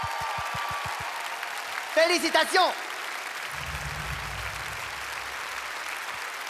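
An audience applauds at the ISU Skating Awards 2023 ceremony after the Most Entertaining Program award goes to ice dancers Gabriela Papadakis and Guillaume Cizeron. Steady, dense clapping fills the whole stretch while a presenter speaks briefly over it.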